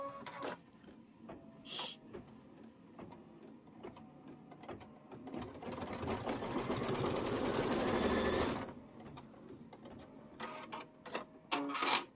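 An embroidery sewing machine stitches a quarter inch seam allowance for a seasonal table runner, its rapid needle clatter steady throughout and swelling louder through the middle before easing back to a lighter patter, with no talking.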